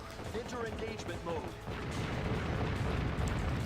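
61cm naval cannons firing in the warship game Warship Gunner 2, heard as low rumbling booms and crashing blasts that swell in the second half, while someone talks over the start.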